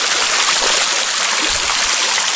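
The Silver Streams waterfall in autumn Crimea pours in a loud, steady, close rush of falling water that stays unbroken throughout, with no voices.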